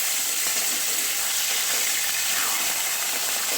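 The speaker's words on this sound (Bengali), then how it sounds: "পাবদা মাছগুলো সব তেলে দেওয়া হয়ে গেছে। এটা এক পিঠ ভাজা হচ্ছে" Pabda fish frying in mustard oil give off a loud, close, continuous sizzle and hiss, with no voices over it.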